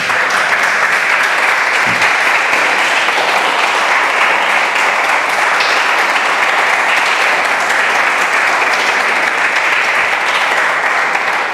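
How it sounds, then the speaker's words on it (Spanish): A church congregation applauds: dense, loud, continuous clapping that holds steady from start to finish with no talk over it. "¿Por qué no le da palmas al rey?"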